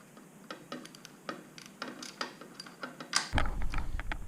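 A ratchet tightens the top fork bolts on an RMZ250 dirt bike during a front brake install, giving a series of close mechanical clicks in short bursts, then a louder, denser stretch near the end.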